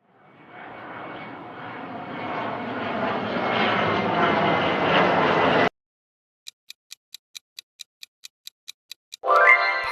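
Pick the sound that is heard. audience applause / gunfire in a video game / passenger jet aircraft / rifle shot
passenger jet aircraft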